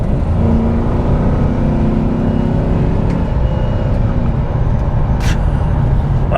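A fast police car launches hard from a standstill, its engine roaring loud and close as it accelerates, with dense road and wind noise filling the sound.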